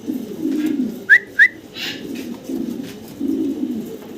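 An imported pair of Black Mundian pigeons coo close by, a steady low rolling coo repeating through, broken by two brief sharp chirps partway.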